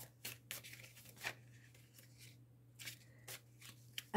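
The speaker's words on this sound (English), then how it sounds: "Usually I don't see the bottom card because I'm shuffling, unless something flips." Tarot cards shuffled by hand, a quiet close series of soft riffling and slapping bursts with short pauses between them over a faint steady hum.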